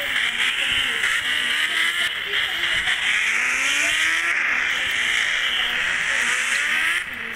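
Motorbike engine from an Indian bike drawing game, a loud sustained revving drone that rises and falls in pitch for about seven seconds, with no talk over it.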